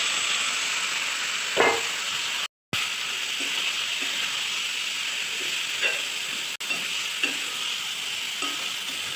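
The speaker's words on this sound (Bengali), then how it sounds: "এবার এটাকে ভালো করে কষে নেব।" Marinated soybean sizzles and fries in a pan with bay leaf, cardamom, cinnamon and a little sugar, a loud, continuous hiss broken by occasional stirring scrapes, with no talk.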